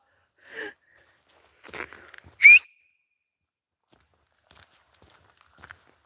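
A short, bright whistle rises briefly amid a few scattered rustles and small sounds in a forest, mostly quiet with no talking.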